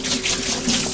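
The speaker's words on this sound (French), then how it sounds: "un petit peu d'eau froide" Cold water pours into a pan holding clementine jam, a steady, close splashing gush that runs unbroken for about a second, with no voices.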